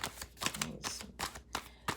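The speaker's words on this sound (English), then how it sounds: "This is a messy shuffle." A deck of playing cards being shuffled loosely and messily, giving several quick bursts of papery riffling and slapping separated by short pauses, close and fairly crisp.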